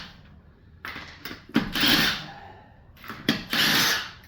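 Pneumatic impact wrench loosening car lug nuts before a tire comes off, heard in several loud rattling bursts of hammering whir with short pauses between them, close by and with no talking.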